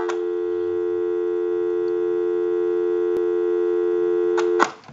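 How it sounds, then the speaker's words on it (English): A loud, steady telephone dial tone on a Kellogg wood wall telephone hums continuously, ending with a sharp click near the end. "push our line cord in and give you some dial tone"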